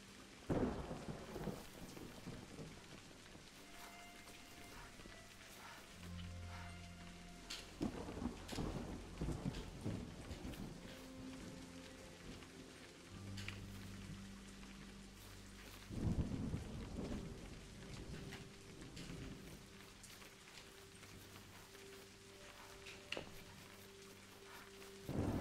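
Rainy thunderstorm in the video game A Highland Song, with steady rain and repeated thunder cracks and deep rolls through the whole stretch, alongside low game music tones.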